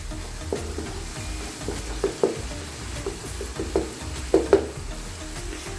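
Masala for aloo gobi stir-fried in a pan, a continuous close sizzle with a handful of light spatula clinks and scrapes at irregular moments, no voices.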